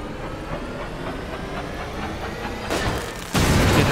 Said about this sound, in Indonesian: Jadi bila kita dengar kipas dah pusing, kita pun buka.